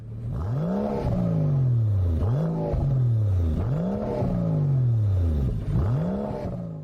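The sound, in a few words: V12 race sedan engine revving through exhaust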